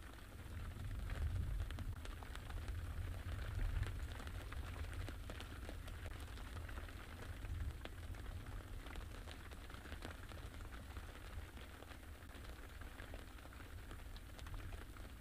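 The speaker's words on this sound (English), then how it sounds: "It does seem like the rain is starting to rain a little bit harder" Rain falls steadily on a vehicle roof at Treehouse Dam during a safari, a constant soft patter with dense drops and a low rumble, faint and even throughout with no voices.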